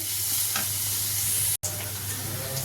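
Cabbage and egg are stir-fried in a pan, giving a loud, continuous close sizzle with soft scraping stirs and a momentary dropout partway through.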